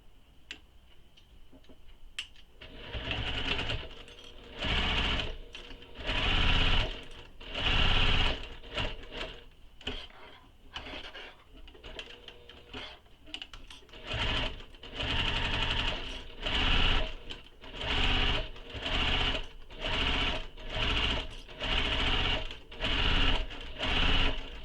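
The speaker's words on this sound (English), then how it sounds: "So I'm going to sew down this side, around the curved edge, and back up using the seam allowance given in the pattern." A sewing machine stitches a handbag seam down one side, around a curved edge and back up, running in repeated rhythmic bursts of rapid ticking with short pauses between them. It starts quietly and grows louder and steadier, with no talk.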